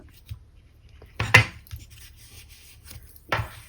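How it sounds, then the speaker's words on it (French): Excess card trimmed off a handmade card box: a few sharp, close cutting snips and scrapes, one louder slice near the middle and another at the end, with quiet pauses between and no speech. "Ça, hop, on coupe ce qui dépasse."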